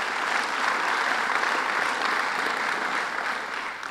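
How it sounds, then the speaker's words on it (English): A crowd applauds steadily at a public event announcing a milestone for the new Schenectady train station, an even, sustained roar of many hands clapping that holds for several seconds before easing slightly. "Let's give them a round of applause"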